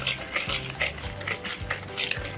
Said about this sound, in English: With this whisk, we are actually going to keep on mixing it.